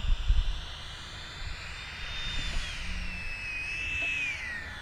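Jet aircraft engine held at about one-third throttle, a steady loud whine with a slowly shifting high tone over a low rumble, sounding close and continuous throughout.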